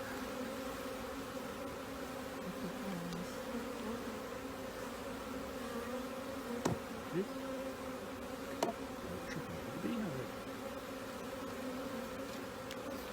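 Honey bees hum and buzz continuously around an open hive during smoking, a dense steady drone with individual bees zipping past close by.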